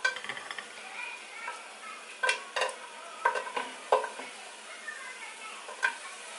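Sliced onion half-moons frying in a pan while tamales are prepared, a steady hiss broken by a few louder crackles and stirring clatters near the middle, close by and with no talk.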